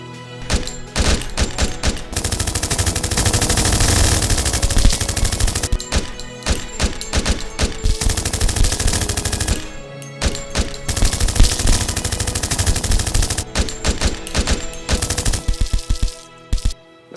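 Gunfire sound effect in a staged action scene: loud, dense bursts of automatic fire rattle almost without pause, separated by brief gaps before the next volley.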